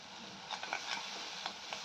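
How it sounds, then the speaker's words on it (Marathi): Ground masala paste sautéing in oil over low heat for a Kantoli curry, a faint, steady sizzle with a few soft stirring scrapes, quiet and close. "आता हा मसाला चांगला तेल सुटेपर्यंत परतून घ्यायचा"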